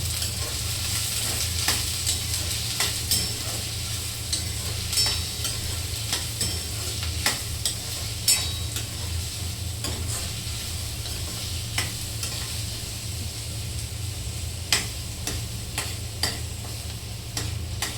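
Peanuts and onions fry in oil in a home kitchen pan while being stirred for a Marathi gosavde vegetable dish: a constant close sizzle punctuated by irregular clicks and taps of the spatula against the pan.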